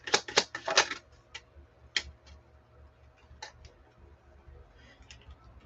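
Tarot cards shuffled by hand at close range: a quick burst of crisp riffling clicks at the start, then scattered single snaps and card taps over a faint steady hum, with no talking.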